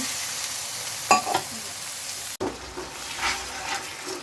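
Spices frying in a pan for a liver filling: a soft sizzle with a few stirring scrapes and knocks, a brief clatter near the start, then a quieter hiss.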